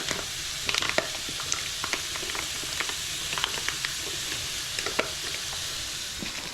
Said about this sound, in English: onions are on. I'm just going to add the lardons, which are smoked.